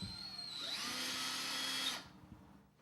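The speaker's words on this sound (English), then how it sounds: "Screw through the larger holes, through the drywall, and into the wooden blocks." Power drill driving 1¼ inch flathead screws through drywall into wooden blocks while a tubular skylight is installed: one close, steady whirring run of about two seconds, rising in pitch, then cutting off.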